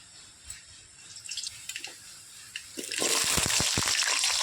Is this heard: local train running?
no